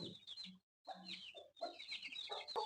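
A Lassani rooster and Kalay Nawab chicks cluck and chirp close by in a short, busy run of calls, with one brief pause.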